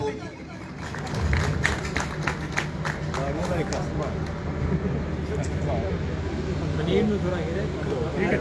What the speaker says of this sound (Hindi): आपकी मजबूत तालियों में उस्ताद राजा ताहिर अदीब